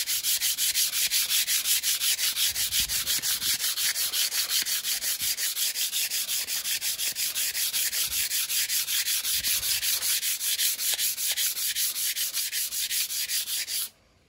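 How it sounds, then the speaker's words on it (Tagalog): Hand sanding on a surface being prepared for repainting: steady, rhythmic back-and-forth rubbing strokes, close and continuous for about fourteen seconds, then stopping abruptly, with no talking. "ang purpose ng pag-sanding natin ay itong matanggal lang yung mga grob-grob na yan, yung mga guhit-guhit."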